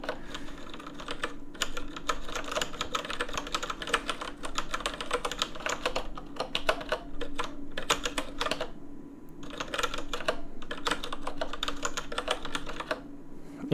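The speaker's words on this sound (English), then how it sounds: "This one I can type really silently if I want. This one is really hard to be silent with." Someone types on an ergonomic computer keyboard in dense, rapid clattering bursts of keystrokes, close and continuous, with brief pauses between runs of typing.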